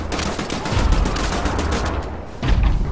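Rapid gunfire from the Wolfenstein video game fills the scene, a dense, loud stream of shots that runs continuously and swells again near the end.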